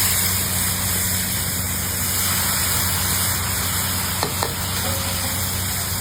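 Onion paste fries in oil with whole garam masala, dry red chillies, bay leaf and cumin for a Bardhaman-style hotel fish curry, making a steady, loud, close sizzle with a couple of faint clinks near the end.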